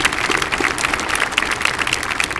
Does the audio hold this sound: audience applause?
yes